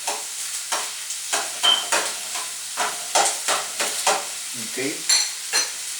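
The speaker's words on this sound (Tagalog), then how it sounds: "So you could smell the great smell already of sauteing the onions" Onions sautéing in a hot pan, a steady close sizzle broken by regular scraping stirs, with one brief spoken word.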